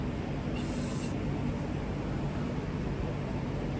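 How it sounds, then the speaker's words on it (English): An aerosol can sprays outdoors in the open in a short hiss of about half a second, heard over steady broadband wind or background noise. "Out here in the open, sometimes I use an aerosol can, sometimes I use a pump"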